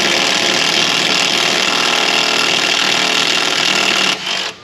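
A 1/4 inch power tool buzzing and hammering loudly and steadily up close while removing 15mm strut nuts on a 2016 Jeep 2.4, running nonstop for about four seconds before cutting off.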